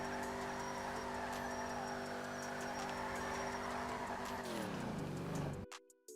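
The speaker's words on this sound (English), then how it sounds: "So tap handbrake, accelerate, and then brake." A car in GTA Online idles with a steady engine note, then its revs sweep down and it brakes to a near stop; the engine sound is loud and close, with no talk over it.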